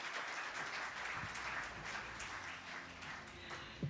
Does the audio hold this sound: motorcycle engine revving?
no